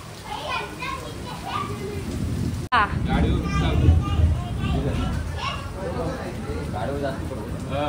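Steady rain patters under lively children's voices, with a low rumble of thunder rolling through the middle; several people talk and play nearby.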